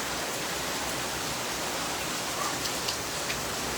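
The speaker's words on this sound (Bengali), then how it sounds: "অনেক বৃষ্টি হচ্ছে তো" Heavy rain pours down steadily in a dense, even hiss, with a few louder drops or splashes near the end.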